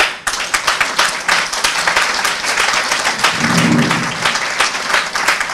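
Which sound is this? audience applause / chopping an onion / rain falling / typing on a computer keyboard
audience applause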